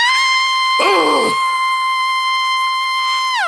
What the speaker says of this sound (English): I screamed so loud